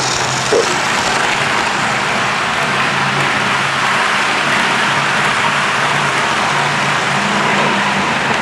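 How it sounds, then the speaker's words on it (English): Several Hornby and Tri-ang model trains run together on the track, filling the air with a steady, loud, unbroken rumble of wheel noise with no pauses. "Certainly a lot of wheel noise."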